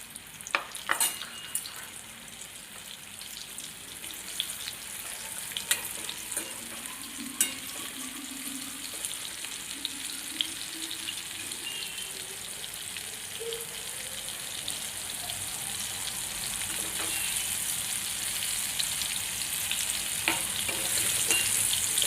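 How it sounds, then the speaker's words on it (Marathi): Paneer pieces frying in oil in a pan over a low flame, giving a steady soft sizzle with occasional crackles and pops that grows slightly louder toward the end; no voices. "आणि आता आपण हे फ्राय करून घेणार आहोत।"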